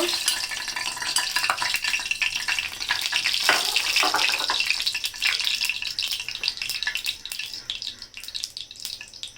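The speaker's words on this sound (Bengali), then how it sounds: "তেলটা গরম হয়ে গেছে, একটু শুকনো মরিচ দিব" Dried red chilies hit hot oil in a home kitchen pan, a loud continuous sizzle and crackle with stirring scrapes, swelling early then settling into a steady fry.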